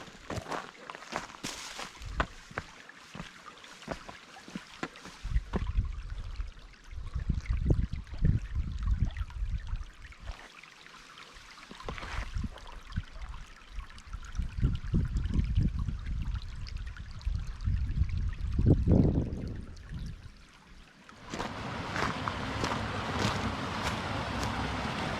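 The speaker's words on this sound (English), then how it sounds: "The Cane Creek here is a beautiful stream." Cane Creek, a stream in an Alabama canyon nature preserve, flows with a soft continuous trickle beneath footsteps and wind gusts, the water louder near the end.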